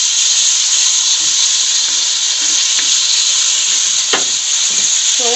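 Beef sizzles in a pan with ginger garlic paste, a steady bright hiss of frying that runs without a break and has faint stirring clicks.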